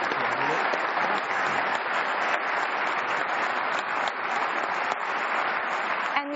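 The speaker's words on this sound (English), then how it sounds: "I'd like everyone to give us a round of applause for the students." An audience applauds at a U.S. Senate special election primary debate at UMass Lowell, giving steady, dense clapping that fills the hall for several seconds.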